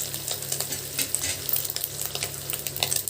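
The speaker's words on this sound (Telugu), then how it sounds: "ఇంకొక 2 నిమిషాలు వేగాలి" Fenugreek and fish-curry ingredients fry in a pan, a continuous close hiss of oil with quick, irregular stirring taps and scrapes throughout, no one talking.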